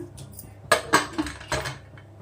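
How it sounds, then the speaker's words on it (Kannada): A pressure cooker lid is set in place for palak pulao. There are a few metallic clanks and knocks, close and fairly soft, with short gaps between them. "ನೋಡಿ ಕುಕ್ಕರ್ ಕ್ಯಾಪ್ ಹಾಕ್ತಾ ಇದ್ದೀನಿ"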